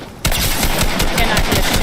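Rapid automatic gunfire from a gun in the video game Fortnite bursts in loud and close after a brief quiet start, continuing as a dense, steady stream of shots.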